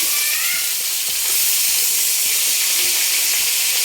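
Cut potatoes sizzling as they fry in a pan with browned onions, a loud, steady broadband hiss that fills the whole stretch without letup.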